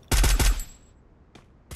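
A rapid burst of about four gunshots rings out in Free Fire, followed by two more isolated shots, all loud and close.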